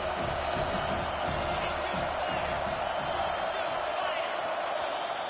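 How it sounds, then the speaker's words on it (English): Football stadium crowd roaring and cheering during a Michigan State game, a steady dense wall of noise with scattered whoops, loud and continuous throughout. "This crowd knows when to bring it."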